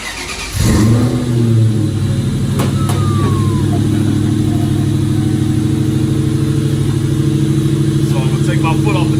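A Ford Foxbody Mustang with a Terminator engine swap fires up and settles into a loud, steady idle with strong low rumble, with a brief rev partway through, close to the microphone.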